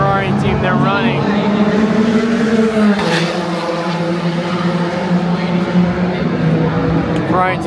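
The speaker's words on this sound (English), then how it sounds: "Here's the Ferrari that wrecked, it just came into the pit." A wrecked Ferrari hypercar rolls slowly through the pit lane at an endurance race, its engine a droning, slightly shifting tone, near and loud, with a commentator talking over it.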